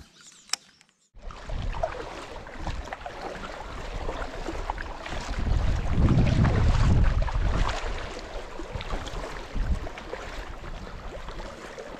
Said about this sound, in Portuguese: Olha o vento aí, ó.